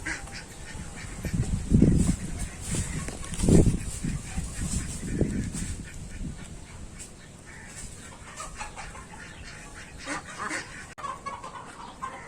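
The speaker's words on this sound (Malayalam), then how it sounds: "വാത്തയുണ്ട്." Geese on a poultry farm in Bahrain, kept among ducks, give loud honking calls in a few bursts near the start, then softer scattered calls and bird noise continue.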